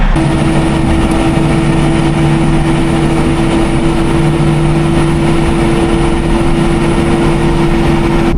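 A HEMTT military 10x10 truck engine drones steadily and loudly while driving on the road and towing another 10x10, a continuous broadband rumble with a constant low hum and no pauses across the span.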